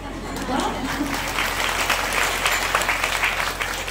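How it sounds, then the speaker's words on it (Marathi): A kirtan audience claps together, a dense, steady burst of applause that fills the hall from start to finish at moderate loudness. "याला पण टाळ्याच का?"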